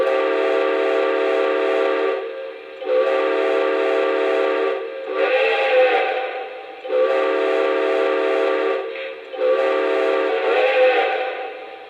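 Whistle of a Lionel NYC 773 Hudson model steam locomotive, loud and close, sounding in four long chime-like blasts separated by short gaps, with no talk over it.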